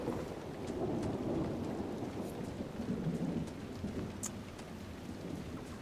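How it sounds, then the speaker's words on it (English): A thunder and lightning storm in Dragon Age Inquisition: a continuous low rumble of rolling thunder blends with steady rain hiss throughout, fairly faint and without voices. "Lightning."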